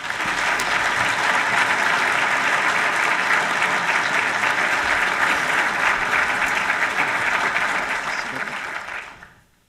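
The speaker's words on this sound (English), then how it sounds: "Please give her a round of applause." Audience applause welcoming the Acting Deputy Secretary of Defense at an evening lecture in Newport, Rhode Island: loud, dense, sustained clapping from a large hall crowd, steady for several seconds before fading out at the end.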